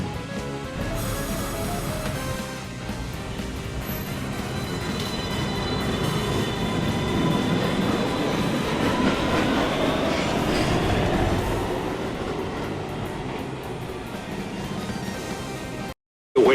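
An R62 subway train on the 1 line pulls away from a Manhattan station platform, a steady broad rumble of wheels and motors building and rolling on for many seconds, with faint clatter and a high whine, before cutting off abruptly.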